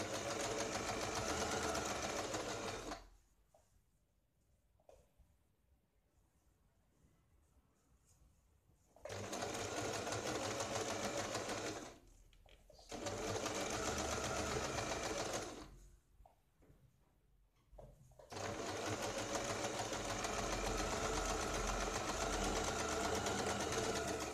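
A sewing machine runs rapid bursts of double stitching on a blouse, loud mechanical whirring in several long runs separated by quiet pauses.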